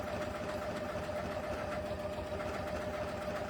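A Continental CM17 sewing machine runs steadily while sewing a decorative border stitch along fabric, a fast, even mechanical whir with rapid needle chatter, close but fairly quiet and uninterrupted.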